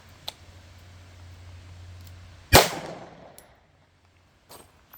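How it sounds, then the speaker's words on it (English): A Palmetto State Armory Dagger pistol fires one sharp, loud shot at a B27 target, following a small click and an earlier faint click, with a short decay afterward. "we're gonna stand up and shoot our B27 with it"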